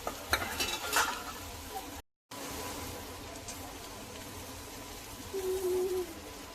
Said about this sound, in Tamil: ரைஸ் ஃபுல்லாக சேர்த்துட்டு கிண்டி.